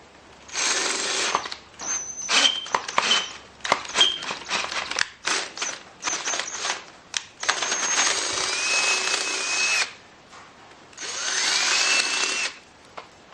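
A power drill whirs in bursts through aluminium alloy, with short pauses between runs and faint clinks of the bit catching, close and fairly loud.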